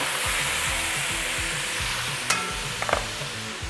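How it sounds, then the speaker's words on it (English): Meat sizzling steadily in a hot pan while being stirred, with scraping clicks and a few sharper taps as red wine vinegar is splashed in to deglaze it for restaurant-style chimichangas; no talking. "I'm going to take some of this red wine and vinegar to deglaze that"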